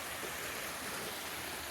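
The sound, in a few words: creek flowing in the woods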